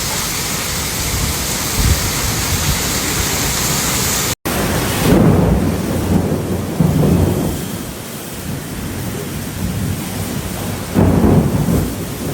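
A thunderstorm in Brisbane, with thunder and heavy rain during the afternoon commute, gives steady loud broadband rain and deep rumbling peals that swell around the middle and again near the end, with a brief dropout partway through.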